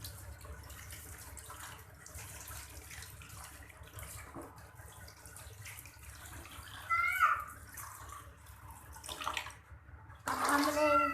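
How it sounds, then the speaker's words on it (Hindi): Carrots being washed under a running kitchen tap while making carrot kheer: a steady wash of flowing water with a few brief splashes and clatters near the end. "अब हम गाजरों को धोएंगे और इसको कद्दूकस करेंगे।"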